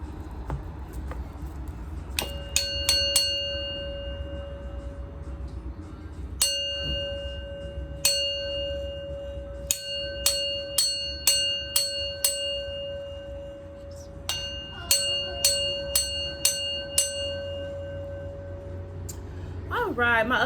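Bells ring out for a sound clearing: clear, sustained metallic tones struck in repeated clusters of rapid strikes, with softer ticking and clinking underneath, over a quiet background.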